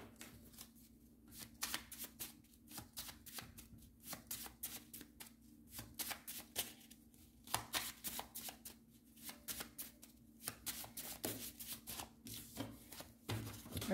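Tarot cards shuffled and drawn from a large deck, a rapid papery flutter of repeated riffles and slides close by, in bursts with brief pauses, no talking.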